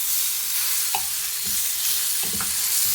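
Raspberries sizzle in a hot frying pan as they lightly caramelise, a steady close hiss of frying with a few soft stirring or turning clicks and no talking.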